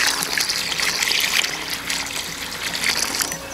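Water poured in to fill a garden staircase feature, a steady broadband trickling and splashing flow that runs continuously throughout at moderate, close volume with no voices.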